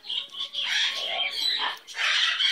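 A pet bird gives a string of harsh, close squawks and chirpy calls, loud and continuous with brief gaps, with no talking over it.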